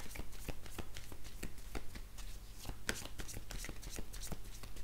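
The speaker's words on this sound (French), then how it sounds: "quand je mélange les cartes" Tarot cards being shuffled by hand, a rapid rhythmic riffling with regular soft snaps, close and continuous for several seconds.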